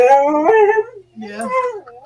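Rocky the dog lets out two drawn-out, wavering howls, close by and loud, separated by a short pause, with no other voices.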